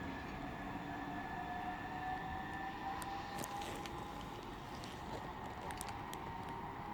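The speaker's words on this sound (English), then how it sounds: "395006 with the 1135 Southeastern High Speed service to London St Pancras International." Southeastern Class 395 Javelin high-speed electric train departing Ebbsfleet International on HS1, a steady broad rumble with a sustained tonal whine, held at constant loudness throughout, with a few faint clicks.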